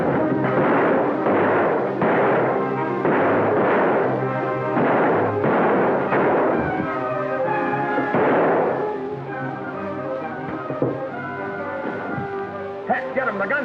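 Gunshots in a 1945 classic western film: a rapid run of sharp, loud reports fires in close succession over a music score for about eight seconds, then thins to scattered shots against the music.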